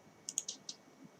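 A computer mouse clicking during photo editing, four quick crisp clicks in a short burst, faint and close in a quiet room.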